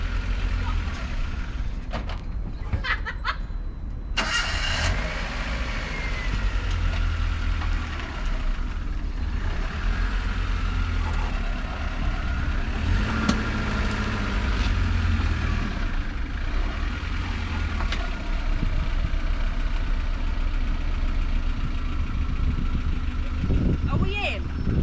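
A car with a failing clutch and gearbox idles while someone tries to reverse it, a steady low engine drone running through the whole stretch with faint background activity.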